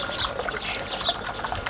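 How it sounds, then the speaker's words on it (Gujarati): Water trickles steadily into a small bowl set under a dripping flow at home, a close, continuous bubbly splashing with no talk. "અહીંયા પાણી પડી રહ્યું છે ત્યાં વાટકો મૂક્યો છે"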